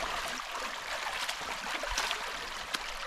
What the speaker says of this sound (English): We're at another river crossing.